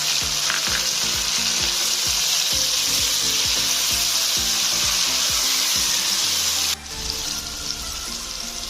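Chopped tomato fries in a pan with a loud, steady sizzle, punctuated by regular scraping taps of a stirring utensil; the hiss drops sharply near the end.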